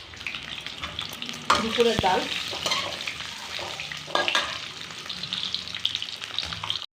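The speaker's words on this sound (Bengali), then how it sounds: "এই যে একটু আলুটাকে একটু চটকে নেবো, চটকে নিয়ে সেদ্ধ করে নিচ্ছি, গোটা কাটিনি। আর এটাকে নুন হলুদ দিয়ে ডিমগুলোকে একটু ভেজে নিচ্ছি।" Eggs fry in oil with salt and turmeric in a home kitchen, a steady close sizzle with stirring and occasional utensil clatter, while a person speaks briefly.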